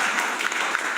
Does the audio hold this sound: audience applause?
yes